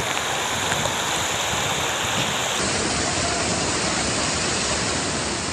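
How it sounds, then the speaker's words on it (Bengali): Storm wind and rain lashing a coastal area of Bangladesh during a cyclone, a dense, steady roar of rushing wind and downpour that stays loud throughout with no breaks. "বিভিন্ন জায়গায় ঝড়ো হাওয়া ও থেমে থেমে বৃষ্টি হচ্ছে।"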